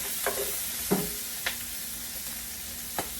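Meat sautéing in a pan with annatto powder while making pancit sotanghon, a steady close sizzle with a few sharp scraping stirs of a utensil against the pan.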